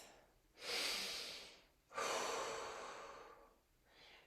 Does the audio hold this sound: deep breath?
yes